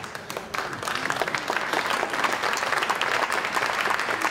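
Audience applause at a public talk in Arles, a dense steady wash of clapping lasting throughout, fairly loud and even with no voices over it.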